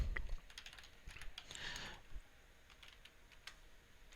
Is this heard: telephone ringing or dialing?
no